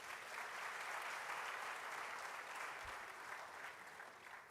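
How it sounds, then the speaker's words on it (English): Steady, even applause from a lecture hall audience at a professorial inaugural lecture at KNUST, heard at a distance and quite faint, sustained for several seconds with no talk. "Shall we please applaud KNUST?"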